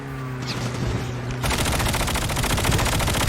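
Rapid automatic gunfire rattles in a fast, continuous stream, loud and close, with a lower engine-like hum underneath at first before the burst grows denser and fills the whole sound.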